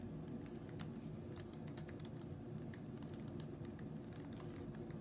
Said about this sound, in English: So I was typing